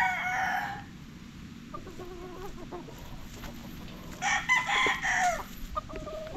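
A rooster crows loudly among a flock of chickens, with a longer crow near the end and softer clucks and bird calls over faint outdoor background noise; no one speaks.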